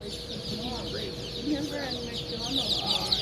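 Chickens cluck and chirp steadily inside a farm store, a busy overlapping chorus of hens heard close, with a constant hum and chatter in the background.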